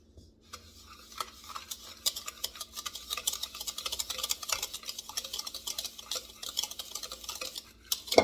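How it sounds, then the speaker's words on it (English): Muffin batter for butterscotch banana muffins whisked by hand in a bowl, a rapid, steady ticking and scraping that grows busier and louder over the clip, close and alone. "I'm just going to whisk that."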